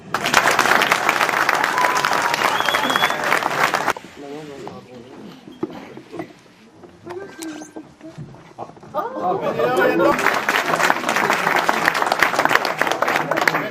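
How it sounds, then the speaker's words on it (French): Theatre audience at a comedy show bursts into loud, dense applause, which drops away to a performer speaking over lighter crowd noise and then swells back into full clapping. "je vous demande d'applaudir"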